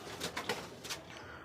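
Soft pigeon cooing, a few short low coos spaced apart, fairly faint, with no talking.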